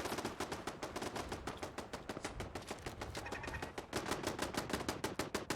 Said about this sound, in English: Is my own turret getting involved now?